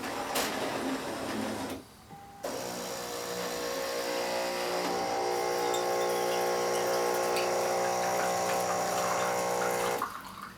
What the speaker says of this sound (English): Okay, we're going to do a little flush here.